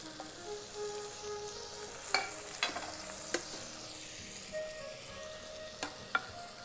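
Onion sautéed in an Instant Pot as chopped cilantro and tomatoes go in, a soft steady sizzle broken by a few sharp spoon clinks and scrapes.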